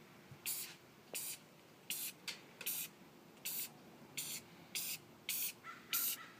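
Acrylic paint sprayed as a fine mist from a distance to dot stars onto a black and white planet painting: about eleven short, sharp hissing bursts at an uneven, quick rhythm, close and fairly loud, with no talk.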